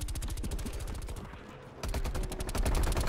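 XM4 assault rifle fire in Call of Duty Cold War, rapid evenly spaced automatic bursts, loud and close, with a brief pause before the rattling stream resumes faster.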